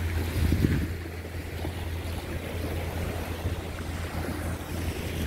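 Sea waves wash against the Cornwall seafront near Penzance, forming a continuous broad surf roar mixed with gusty wind buffeting the microphone, with a slightly louder surge near the start and no talking.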